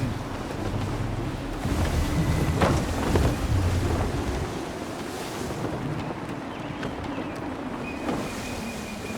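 A sailing ship under full sail in the Assassin's Creed 3 video game, with rushing wind, creaking and waves washing around the hull, loud at first then easing, no voices.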